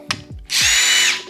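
Ryobi brushless drill driver spinning up after a couple of light clicks and knocks, then a loud, close, steady high-pitched motor whine holding for most of a second before winding down.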